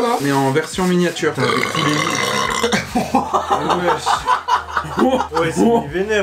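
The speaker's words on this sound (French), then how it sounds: "Je vais re-roter pour vous faire plaisir" Long loud burp during a meal of an extra-large pizza, followed by chuckling and snickering, with people talking in French around it.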